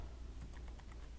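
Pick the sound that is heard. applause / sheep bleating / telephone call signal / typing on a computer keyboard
typing on a computer keyboard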